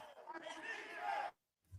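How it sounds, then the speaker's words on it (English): At an American football game between the Midwestern Bulldogs and the Indianapolis Enforcers at Mojo Sports Complex, a distant crowd chants defense in one sustained, swelling roar of many voices that cuts off sharply near the end. "as you can hear the crowd going in here, chanting defense"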